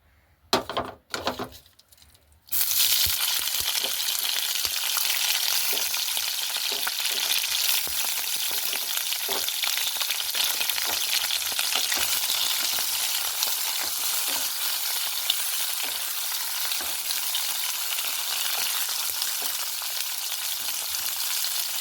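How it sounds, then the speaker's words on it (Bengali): Prawns frying in oil for a festive-style prawn malai curry, a strong continuous sizzle that bursts in after a couple of seconds of quiet handling knocks and holds steady and close with faint stirring, no talk. "আমি চিংড়িগুলোকে আগে ভেজে নেব।"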